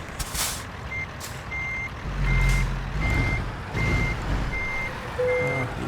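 A truck in American Truck Simulator reverses with evenly spaced electronic backup beeps, over a low diesel engine rumble and sharp hisses of air brakes releasing, loud and close throughout.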